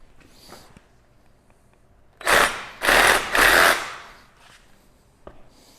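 A Sawzall reciprocating saw cuts in three loud, rapid buzzing bursts of roughly a second each, with short pauses between, in a quiet setting with light handling clatter before and after.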